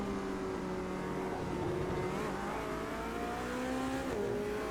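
A racing car engine in the Gran Turismo video game, on a GT touring challenge at the Long Beach street circuit, holds a loud, steady drone with shifting pitch, then dips and climbs again near the end, with no voices.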